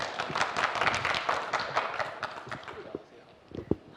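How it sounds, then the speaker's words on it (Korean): An audience at a forum on a multipurpose synchrotron radiation accelerator gives applause to welcome the speaker, a steady patter of many hands that fades toward the end, with voices mixed in. "여러분 큰 박수로 환영해 주시기 바랍니다"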